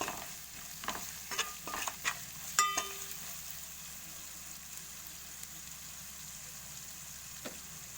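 Tamarind juice poured into hot oil for a spicy fish curry, giving a few sharp sizzling and stirring bursts in the first three seconds that settle into a quiet, steady frying hiss.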